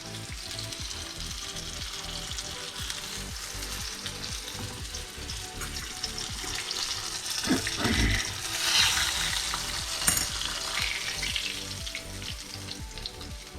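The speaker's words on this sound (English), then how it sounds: "Just drop it in there and just let it sizzle, let it do its thing." Pieces of freshly speared fish frying in a pan, a steady crackling sizzle with popping bursts, continuous throughout and fairly quiet, with no voices.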